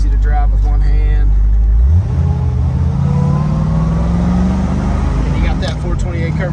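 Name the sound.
1968 Shelby GT500 KR 428 Cobra Jet engine revving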